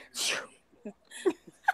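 A single loud sneeze bursts out, followed by a few soft breaths and small vocal sounds.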